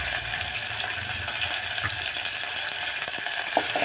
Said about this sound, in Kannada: ಇವಾಗ ಬೆಳ್ಳುಳ್ಳಿನ ಇಟ್ಕೊಂಡಿದ್ದೀವಲ್ಲ ಅದನ್ನು ಹಾಕಬೇಕು